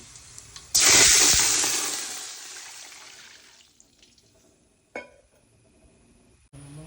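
Water pours loudly into a pot of hot oil with cloves for about two seconds, rushing and splashing, then trails off into quiet sizzling with a couple of brief knocks afterward.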